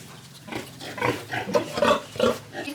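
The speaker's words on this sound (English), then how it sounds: "and alongside there's the pigsties." Pigs grunting in the pigsties beside a cattle shed on a farm in Thailand, a run of repeated close, moderately loud grunts and snorts with no talk.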